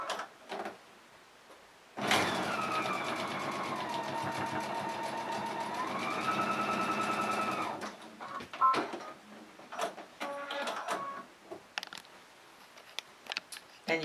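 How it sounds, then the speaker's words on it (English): A sewing machine stitches straight across matched, pressed-open fabric seams, running in one loud continuous burst of about six seconds, followed by quieter handling clicks and rustles. "you stitch straight across."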